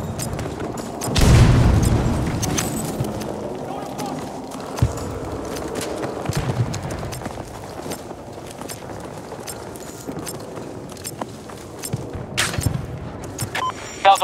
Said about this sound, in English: Grenade out! Take cover!